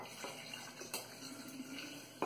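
Coffee poured from an artisan bottle into a vessel, a steady close liquid splash and trickle with a few brighter spurts and a final louder splash at the end.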